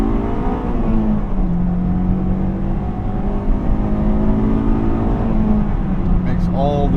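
A 2005 Honda S2000 AP2 with its stock exhaust accelerates, the engine note loud and near, rising and easing through the revs in a continuous mechanical drone.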